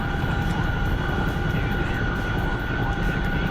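A helicopter flying over open water at night, its engine and rotor heard from inside as a loud, steady drone with a constant tone and no voices.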